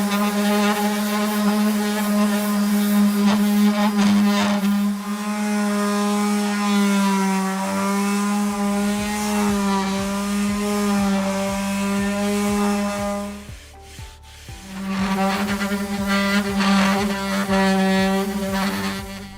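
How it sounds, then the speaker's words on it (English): Orbital power sander working over a painted potato bin, a steady loud motor whine with strong harmonic hum running continuously, briefly cutting out near the end before starting up again. "But I do get to use my power sander."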